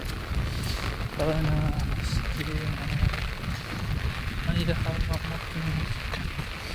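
Heavy monsoon downpour hisses in a continuous loud wash, with a voice briefly speaking over the rain at intervals.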